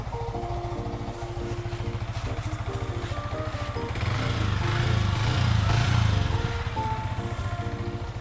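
A 2019 Yamaha YZF R15 motorcycle engine idles steadily nearby with an even, low putter, the rumble swelling slightly midway before settling back.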